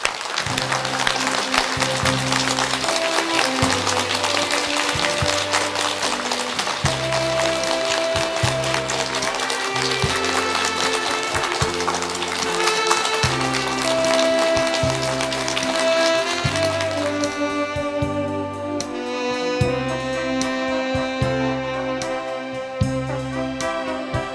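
An audience gives long, sustained applause to welcome a singer on a 1993 KBS late-night music broadcast. Dense clapping rides over live band music for a long stretch, then dies away and leaves the music playing alone.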